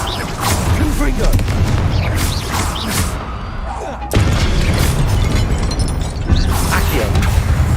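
Confringo blasting spell going off in the Hogwarts Legacy video game, a booming burst amid dense, continuous combat noise with mechanical clatter, loud throughout, with a sharp surge near the middle and another near the end, talk mixed in.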